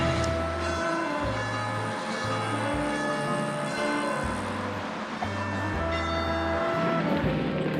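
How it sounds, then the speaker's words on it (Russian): Church bells ring out a melody in a town with cobbled streets, their tones sustained and fairly strong over a steady bed of traffic and street noise. "Очень интересную мелодию играют колокола."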